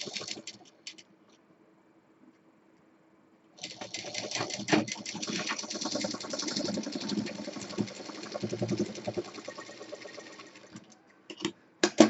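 A sewing machine stitches the fabric of a handmade Rajasthani jhola bag handle, running in a steady buzzing burst for several seconds after a quiet pause, with a few brief clicks at either end.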